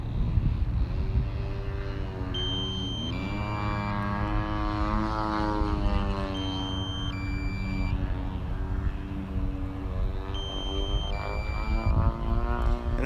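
A DJI Inspire 1 drone flies and comes in to land, its rotors giving a steady, loud multi-toned whine that shifts pitch as it manoeuvres, with a few electronic beeps over the continuous hum.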